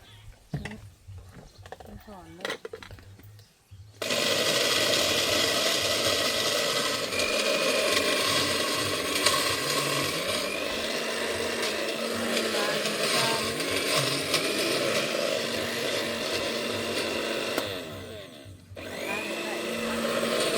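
A loud electric blender whirs continuously for about fourteen seconds after a quieter stretch of faint background sounds, then stops abruptly.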